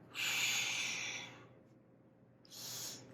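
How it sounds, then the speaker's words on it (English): Slow, controlled breaths during a Pilates and restorative yoga session, a long airy exhale followed by a pause and another breath starting, close and fairly soft with no talking. "We're going to inhale, exhale."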